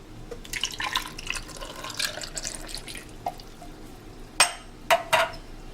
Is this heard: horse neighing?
no